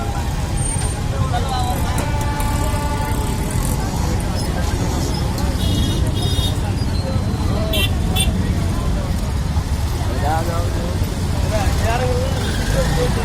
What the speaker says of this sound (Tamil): ஒரே டிராஃபிக் டிராஃபிக் டிராஃபிக் டிராஃபிக் ரொம்ப டிராஃபிக்